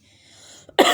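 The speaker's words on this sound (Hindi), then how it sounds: "परेशानी से खांसी लग गई है।" A single person coughs once, a short, loud burst following a faint breathy lead-in.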